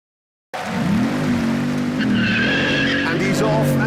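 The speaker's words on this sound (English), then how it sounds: "just look how fast that thing fires off the line, smoking all 4 tyres" A supercar launches hard off the line with wheelspin, smoking all four tyres; after a short silence a loud, near tyre squeal and rising engine note burst in and hold, with a voice talking over them.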